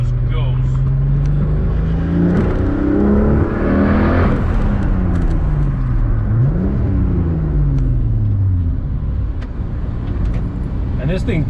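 A turbocharged VR6 car running 9.5 psi of boost makes a street pull, close and loud. The engine drone climbs steadily, dips at gear changes, then climbs again.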